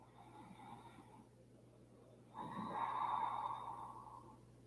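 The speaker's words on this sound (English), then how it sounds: "Slow, deep breaths here." Slow, deep breathing during a seated yoga forward bend, soft airy exhales heard alone, with a quieter first breath followed by a fuller, longer breath toward the end.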